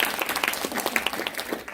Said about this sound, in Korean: 박수 치려면 쳐주세요.